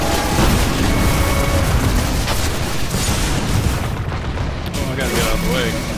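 Weapons fire and booming blasts in Destiny's Vault of Glass raid, a loud, relentless wall of shots and explosions, with a voice faintly mixed into the din.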